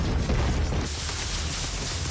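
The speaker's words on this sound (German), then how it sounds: "einen BFG-Schuss habe ich noch" A BFG shot in the video game Doom, fought against a boss, erupts as a loud, dense roaring blast that fades into a rumbling tail.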